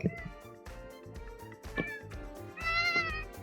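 Close, clear cat meows come several times in a row, the last one longer and rising, over a low steady background.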